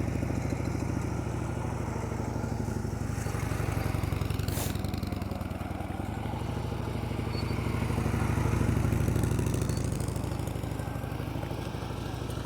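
A motorcycle engine putters steadily at low speed during a slow-speed riding practice session, a continuous idling drone that swells slightly and eases off, heard alone without talk.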